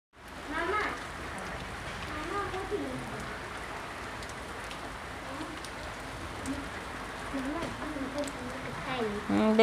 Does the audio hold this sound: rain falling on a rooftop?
yes